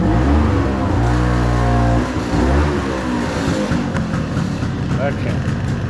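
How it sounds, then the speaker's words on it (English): A Vespa P200E scooter engine revs and drones loudly on a night ride, the pitch rising and falling with throttle changes under rushing wind noise. "Nighttime Vespa ride."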